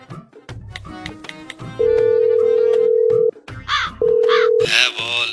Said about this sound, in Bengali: পাল্টাকে আর একবার ফোন করে দেখি।